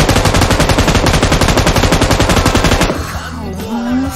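Rapid automatic rifle fire in Game for Peace, a long loud burst of evenly spaced shots lasting about three seconds, then cutting off to quieter ambient game sound.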